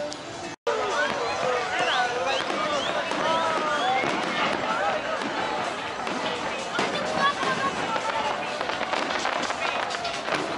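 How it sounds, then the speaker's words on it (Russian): New Year fireworks over a celebrating crowd in Alanya, Turkey, with continuous crackling and popping bursts layered over loud crowd babble and voices, sustained throughout after a brief cut near the start. "через минуту будет фейерверк."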